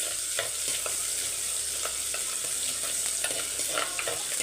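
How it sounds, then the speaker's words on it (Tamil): Curry leaves, garlic and three dried red chillies sauté in hot oil, with a steady close sizzle and occasional scraping stirs, without any talk. "கருவேப்பிலை பூண்டு வந்து பாதி வதங்கினா போதும்"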